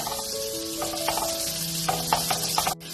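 Butter and about a tablespoon of oil melt in a pan for white sauce pasta, giving a steady soft sizzle with light scraping clicks and a faint tonal hum running underneath.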